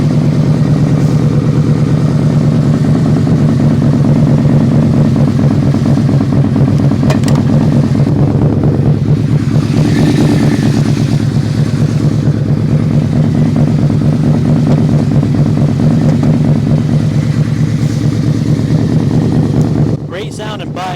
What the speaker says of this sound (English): Great sounding bike, V4. It's a little cold.